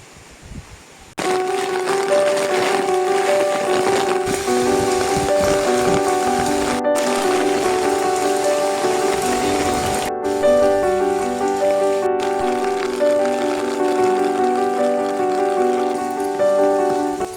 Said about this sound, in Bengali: অলরেডি বৃষ্টি পড়া শুরু হয়ে গেছে, বেশ ভালোই বৃষ্টি পড়ছে